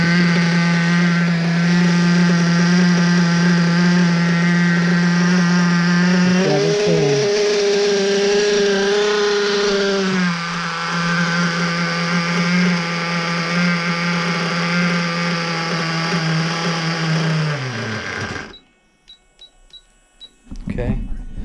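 A Triton engine runs loud and steady after an adjustment, its pitch dropping partway as the idle is brought down, then cutting out abruptly near the end as the idle is set too low.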